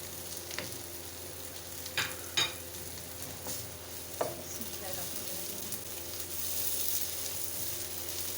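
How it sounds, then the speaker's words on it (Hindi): Garlic and ginger hit the pan with golden fried onions for a mixed vegetable curry, giving a steady sizzle with occasional scrapes and knocks of stirring, close and moderately loud, no talking. "बस 1-2 मिनट के लिए इसे भून लूंगी"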